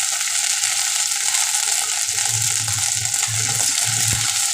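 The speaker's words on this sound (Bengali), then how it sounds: "এখন দিয়ে দিচ্ছি এখানে আদা কুচি।" Chopped ginger frying in hot oil in a pan over a lowered flame, making a steady close sizzle with a few stirring bumps and crackles near the end.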